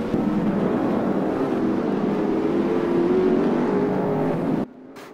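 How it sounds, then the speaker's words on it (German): Field of 28 race cars at the start of a winter-season race, a dense sustained engine drone at full volume for several seconds before cutting abruptly to a quieter, thinner engine noise. "28 Autos sind am Start zu diesem zweiten Rennen."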